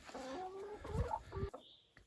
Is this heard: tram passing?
no